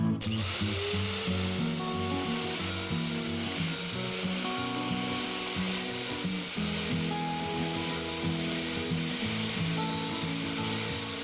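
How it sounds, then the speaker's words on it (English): A power grinder whines at a steady high pitch as it grinds the heads off brass pins, the tone wavering slightly as the tool bears down on the metal, loud and close with no speech. "the first thing to do is grind off the heads of all 6 of those brass pins"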